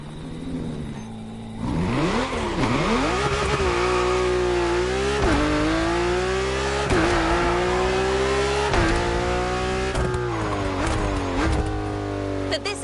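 Toyota Supra racing in a video game, its engine revving loud and close throughout with rising and falling pitch as it shifts gears and curves around a lighthouse course, with brief tire squeals.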